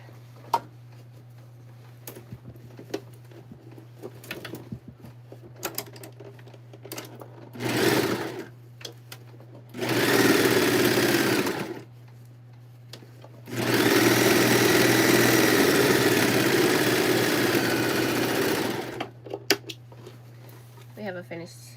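A sewing machine finishes a denim edge in two main bursts of rapid, loud stitching, preceded by a brief short run, with quiet ticks and handling noises and a low steady hum between runs.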